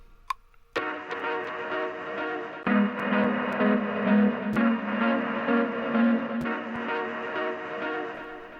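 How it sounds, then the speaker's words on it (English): A lo-fi music sample slowed with a Halftime plugin plays as a dense, hazy chordal loop with soft ticking clicks and crackle throughout, steady and moderately loud. "to instead having a nice lo-fi sounding sample like this"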